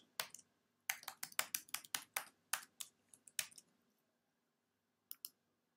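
Sharp mouse clicks during a WordPress installation, a quick irregular run of about a dozen crisp taps close to the mic, then a pause and two more clicks, no talking.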